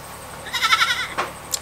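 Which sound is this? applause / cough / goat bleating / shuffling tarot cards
goat bleating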